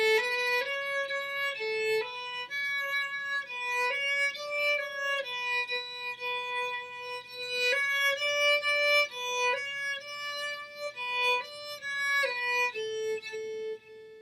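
A solo violin plays a simple melody, some notes gliding smoothly into the next in slurred pairs and others bowed separately, clear and unaccompanied.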